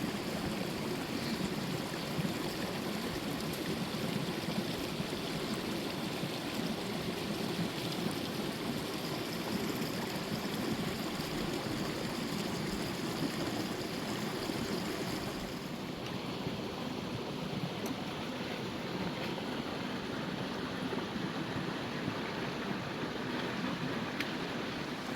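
A stream flows steadily in the Western Maine woods, a continuous broadband rush of water that stays even for the whole stretch, with no voices over it.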